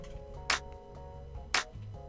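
Two crisp hand claps from a music production track snap about a second apart over a quiet sustained synth and low percussion bed, each clap short and bright.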